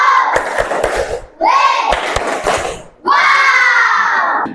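A school class claps and shouts "wow" together in a classroom, loud sharp claps followed by two bursts of group voices chanting in unison, close and energetic.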